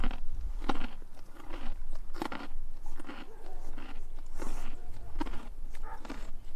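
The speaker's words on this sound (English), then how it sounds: "You want a carrot? Oh my god, the crunch. Can you guys hear the crunch?" An animal at a sanctuary biting and chewing a carrot, giving close, loud repeated crunches in an irregular rhythm over several seconds with light background rustle.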